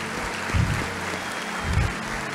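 A church congregation claps during a sermon, a steady mass of applause with low thumps breaking through twice.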